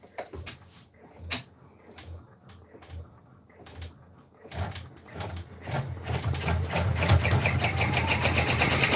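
An in-the-hoop embroidery machine sews the final stitch on a raccoon stuffed toy: sparse mechanical clicks and taps at first, then a loud, steady, rapid whirring rhythm that builds toward the end.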